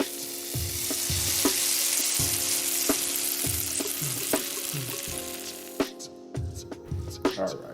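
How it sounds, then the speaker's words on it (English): Sausage frying in a hot wok, a steady close sizzle punctuated by regular utensil clicks and scrapes, with a voice talking over it before the frying fades and sharper clatter follows. "now the first thing we need to do is get our sausage into a nice hot pan"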